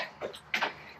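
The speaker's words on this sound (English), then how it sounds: "That tapping noise you can hear is Doug stomping down the ground that he's just levelled out." Doug stomps down freshly levelled ground inside a greenhouse, giving two soft, close thuds about a third of a second apart, alone against quiet background.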